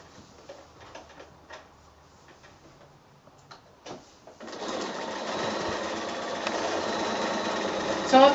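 A few scattered soft clicks and handling sounds, then a sewing machine starts up nearby and runs in a steady, fast mechanical whir while stitching a seam across a quilt block.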